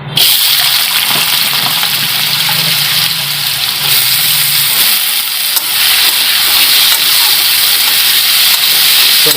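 Potatoes fry in hot mustard oil with a loud, steady hiss and crackle that fills the whole stretch, spitting and popping close by.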